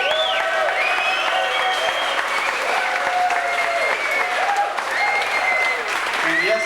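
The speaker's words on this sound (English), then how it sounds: "Let's give a nice round of applause" A crowd at a 1998 Iowa Rock and Roll Hall of Fame induction claps in sustained, dense applause with cheers and whistles rising over it, loud and continuous throughout.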